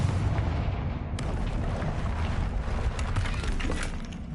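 Confringo fire blast spell cast in Hogwarts Legacy, a dense explosive whoosh and crackle under steady rumbling game noise, with a sharp burst early and a flurry of crackling impacts near the end.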